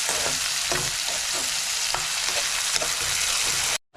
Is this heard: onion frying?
yes